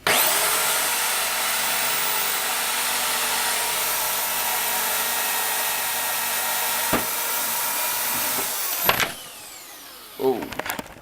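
A power drill whirs steadily and loudly while boring holes into a wooden board, then winds down near the end with a couple of brief knocks and handling sounds.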